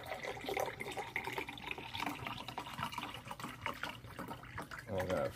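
Untreated well water drawn from 22 feet underground in North Judson, Indiana, pours steadily into a container, a continuous close splashing and gurgling fill with faint room noise.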